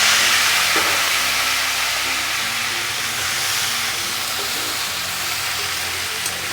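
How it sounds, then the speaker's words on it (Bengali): Cauliflower florets and potato pieces fry in hot oil, a steady, loud, close hiss of broadband sizzle running throughout with a faint low hum beneath and no talking. "যে তেলটা আছে ওর মধ্যেই আমি ফুলকপি আর আলুগুলোকে ভেজে নেব"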